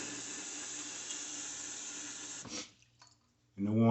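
Steady warm water hisses from a tap into a sink for rinsing a razor for a couple of seconds, then cuts off, followed by a brief clatter and a voice starting to speak.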